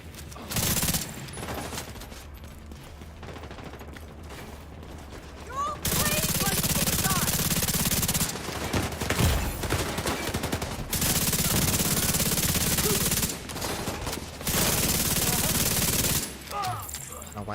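Bursts of automatic gunfire in the shooter game Division 2, loud sustained volleys broken by short pauses, starting and stopping several times at close range.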